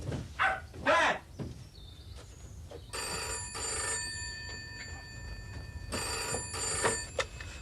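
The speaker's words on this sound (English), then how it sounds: "Sal, what are you ringing for?" A telephone bell ringing in repeated bursts of rings separated by short pauses, close and loud, with a few brief calls and background noises between the rings.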